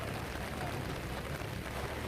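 Heavy torrential rain pours down during flood-like conditions in Pali, a steady, dense broadband wash that stays loud and unbroken throughout, with no clear voices.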